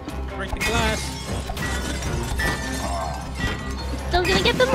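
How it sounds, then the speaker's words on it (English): Glass breaking in the video game It Takes Two, a bright shattering crash mixed with game music and effects while players talk over it. "Break the glass."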